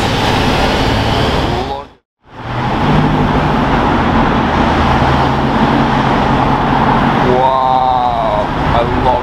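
A straight-piped Ford GT engine roars loud and close in a broadband rumble, briefly cutting out before surging back, with a rising rev tone near the end.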